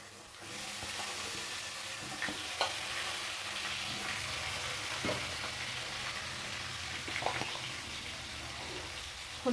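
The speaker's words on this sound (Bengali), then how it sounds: "মাছ ভাজার তেলেই আমি বেগুনটাকেও ভেজে নেব।" Eggplant frying in oil left over from frying fish heads, a steady close sizzle with occasional spatula clicks and stirring scrapes, no voices.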